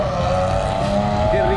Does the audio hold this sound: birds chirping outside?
no